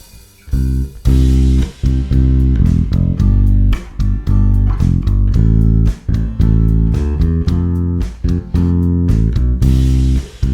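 Electric bass plays a walking line over a backing track, stepping up between chords in a steady, punchy stream of deep plucked notes with brief gaps between phrases, loud and close.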